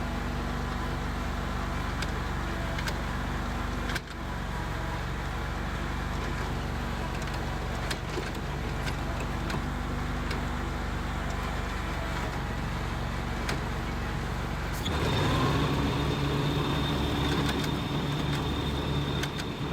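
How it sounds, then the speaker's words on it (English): A Cheetah riding mower with its deck engaged cuts grass, a steady close engine drone running throughout and shifting to a brighter, harder whine late in the clip. "I just engaged the mower deck. We are now cutting grass."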